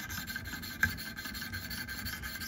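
Knife blade sharpened on a 200 grit stone, a steady rhythmic rasping of repeated close strokes at low level.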